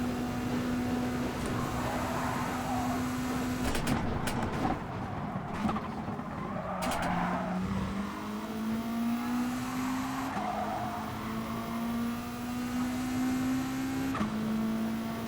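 Race cars in the Gran Turismo Sport video game hold a steady, loud engine whine while the pitch climbs and shifts through gear changes, with brief tire squeals and other cars passing close by.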